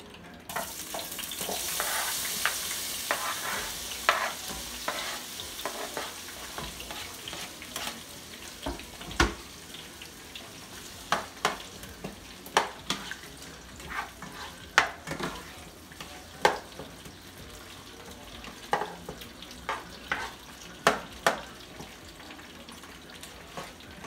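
Tomatoes and onion fry in a pot for Nigerian egg sauce, a steady close sizzle broken by repeated spoon scrapes and knocks against the pot, with no talking.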